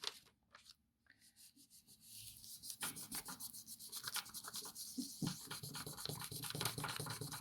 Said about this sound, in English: So before I take that off, I'm going to burnish it again.